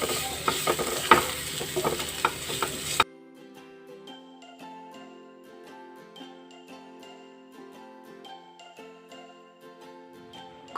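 Fried banana flower is stirred with Maggi masala in a pan, making a few seconds of close scraping and sizzling that gives way to soft music.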